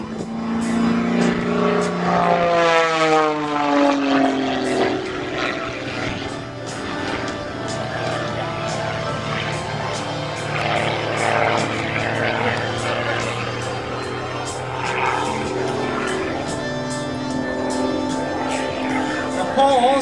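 Aerobatic airplane with a 380 horsepower Lycoming IO-540 engine hovering and turning at an airshow, its loud droning propeller rising and falling in pitch over a long stretch, with an announcer speaking over it.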